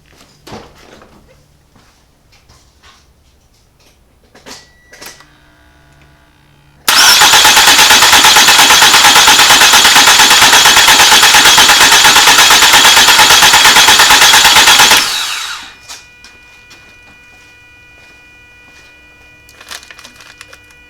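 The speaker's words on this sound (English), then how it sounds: "I'm going to crank on it, and the gas should shoot into this bag." A flood-damaged Toyota Camry engine cranking on the starter without firing, a loud rapid rhythmic churn lasting about eight seconds alone, framed by quiet workshop clatter before and after.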